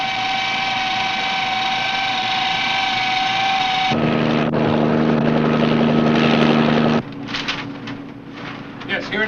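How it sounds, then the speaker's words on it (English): Helicopter engine and rotor noise, a loud steady drone with a whining tone that shifts partway through, heard over an indoor scene where people speak. "I want that helicopter to clear out of here."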